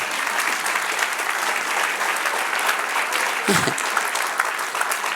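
A church congregation applauding during a sermon: loud, dense, sustained clapping from a large crowd, continuous throughout with a brief low thump partway through.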